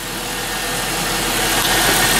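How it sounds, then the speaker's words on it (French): A 2004 Chrysler Pacifica engine, freshly fitted with new spark plugs, idles steadily and close up as a continuous, even rumble. "Donc là, le moteur est parti. Comme vous voyez, ça tourne comme un petit nœud."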